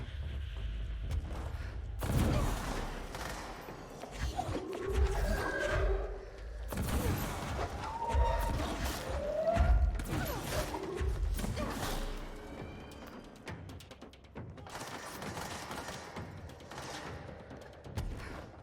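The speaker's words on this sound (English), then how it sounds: "Yeah, okay, you're shooting at somebody." Gunfire and combat in the video game Control: repeated bursts of shots, heavy thuds and crashing impacts come in uneven clusters, loud and close, with clattering debris between the volleys.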